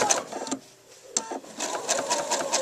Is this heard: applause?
no